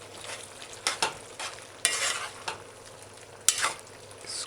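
A spoon stirs corn and diced sweet pepper into a pasta salad, making several separate scraping, rustling strokes close up with short quiet gaps between them and no speech.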